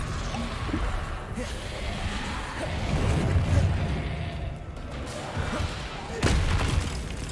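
Confringo blasting spells go off in a Hogwarts Legacy battle: a steady busy rumble of impacts and whooshing combat noise, with a sharper, louder burst near the end.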